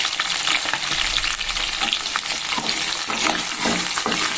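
Chopped onions fry in a pan for Rayalaseema-style sambar, giving a steady close sizzle broken by scraping stirs, with no talk.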